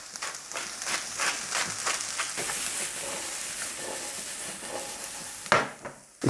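Cauliflower frying in butter in a pan gives a steady, close sizzle and hiss with light stirring scrapes throughout, then a sharper clatter near the end.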